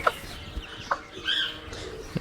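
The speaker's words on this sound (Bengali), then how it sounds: "এই যে খাবার দিছি মুরগিগুলোকে দেখেন" Several young layer chickens, about a month old, cluck and squawk in short bursts close by while being fed, with soft scratching and rustling between calls.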